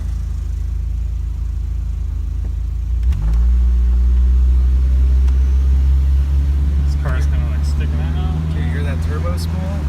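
A Chrysler Town and Country minivan's engine rumbles low, then revs sharply upward and settles into a loud, steady drone heard from inside the cabin. Voices talk over it toward the end.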